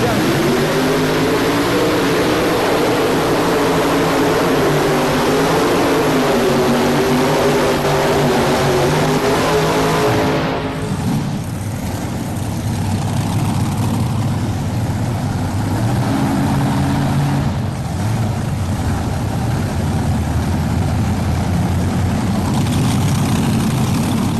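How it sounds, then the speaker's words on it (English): Modified 512 cubic inch tractor engine at the 1999 National Farm Machinery Show Championship Tractor Pull in Louisville, Kentucky, roaring loud and steady, its pitch wavering, then dropping to a rougher, lower drone midway. "the first night of the 1999 National Farm Machinery Show Championship Tractor Pull. 512 cubic inch."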